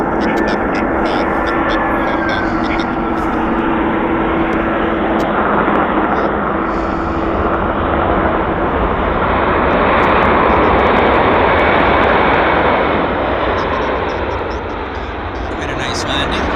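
An airliner landing at Vancouver airport roars loud and steady for the whole stretch, a broad engine rush that swells in the middle and eases slightly at the end, with radio chatter faintly in the background.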